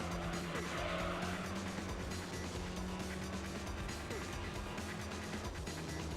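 An overpowered, overtuned brown Audi TT drifting in Gran Turismo 3, tires squealing steadily over a loud, constant engine drone, with a faint voice in the mix.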